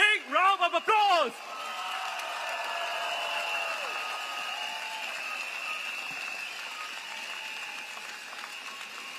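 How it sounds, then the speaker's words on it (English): Outdoor crowd applause at a People's Action Party political rally at Jurong West Stadium; a brief voice opens, then steady, fairly distant clapping fills the rest with a constant hum underneath. "please give them a big round of applause."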